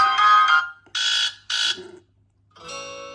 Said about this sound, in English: So you can add ringtones as well, which is nice to see.